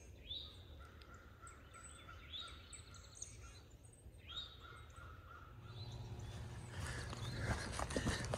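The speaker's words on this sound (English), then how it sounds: "these birds are really chirping away." Birds call repeatedly from nearby trees in spring on the Appalachian Trail, harsh cawing notes mixed with brighter chirps, over a steady outdoor hiss that grows rougher toward the end.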